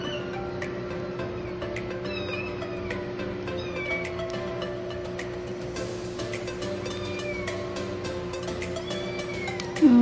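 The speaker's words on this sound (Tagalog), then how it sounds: "Naririnig niyo sa background is yung pusa namin" A cat meows a few times in the background, faint and intermittent over a steady low hum of room noise.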